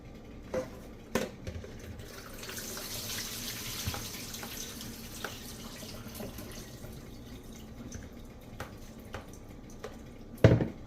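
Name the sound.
pouring water off cooked collard greens and squeezing them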